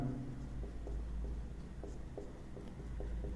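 Chalk tapping and scraping on a board during a physics lecture, a steady series of short strokes and taps over a constant low hum, with no talk over it.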